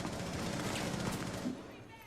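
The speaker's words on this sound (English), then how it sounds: "a lot of this gunfire heading down the stairs" Rapid bursts of gunfire from the video game Rainbow Six, heard dense and continuous for about two seconds over a bed of mixed game noise, easing slightly toward the end.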